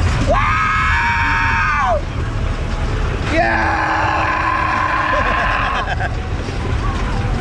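Riders shriek on a wild mouse roller coaster at the Florida State Fair on an overcast day: two long, loud screams over steady ride rumble, with a short gap between them.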